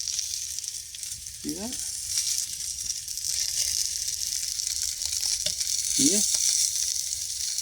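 Meat skin sizzles steadily in a hot cast iron skillet, a continuous bright crackle holding at an even level, while someone speaks a few brief words over it.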